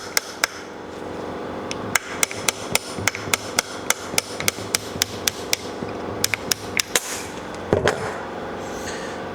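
A pneumatic air hammer drives a shaft out of a Willys Jeep Dana 25 axle, a rapid series of sharp, loud metallic impacts in uneven bursts, close up, with a brief hiss of air between strikes.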